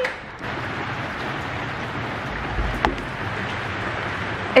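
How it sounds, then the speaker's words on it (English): Rain falling on a tin roof, a steady soft patter and hiss from indoors with an occasional louder drop, no voices. "It's raining outside. We can hear it falling on the tin roof."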